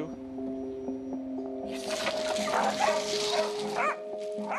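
A dog gives a few sharp barks and yips close by, over a background of sustained steady tones.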